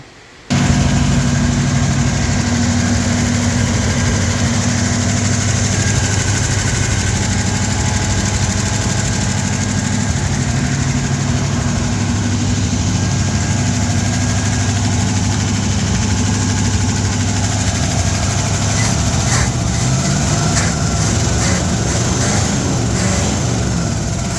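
A 1960 El Camino engine runs steadily with a new carburetor fitted, a loud, continuous low rumble that starts abruptly and holds a constant idle for about twenty seconds, with no talk.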